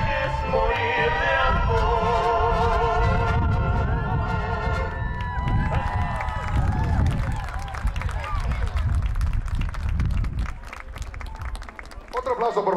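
Audience applause and cheering at a mariachi concert in Las Vegas, loud and sustained across the whole stretch, with some tonal music fading out early and crowd voices mixed in.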